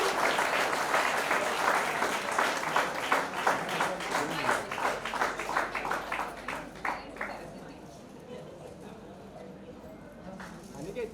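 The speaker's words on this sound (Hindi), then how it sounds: "Huge round of applause." Applause from an audience at a special film screening event, dense clapping that builds and then thins out into scattered claps before fading under room noise.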